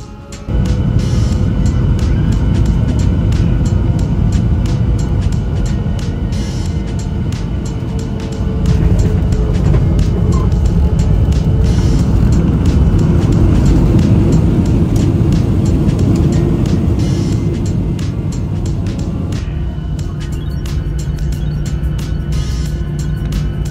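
Cabin of a Lion Air Boeing 737-800 on final approach into Jakarta, a loud steady roar of engines and airflow that swells partway through and eases slightly near the end.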